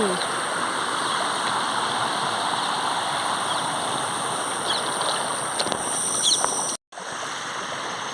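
Water rushes and roars steadily and forcefully nearby after very heavy rain, a dense continuous flow that briefly cuts out near the end.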